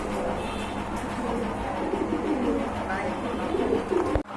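Domestic pigeons kept for sale coo steadily throughout, a soft continuous murmur of several birds close by, with a sharp knock near the end.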